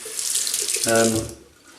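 Cold water runs from a tap into a sink at close range, a steady hiss of flow with a brief deeper gurgle as it splashes, lasting under two seconds with no talking.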